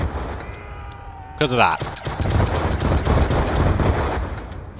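Repeated blasts and gunfire from a Pack-a-Punched automatic RPG in Black Ops 2 Nuketown Zombies, a dense loud barrage that carries on after a short burst of talk near the start.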